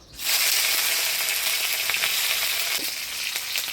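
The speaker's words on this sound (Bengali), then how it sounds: "কড়াই তেল দিয়ে দিছি এবার শুটকি মাছটা দিয়ে দিই" Dried fish dropped into hot oil in a wok bursts into a loud, close sizzle that holds as a dense, steady hiss with faint pops, without any talk.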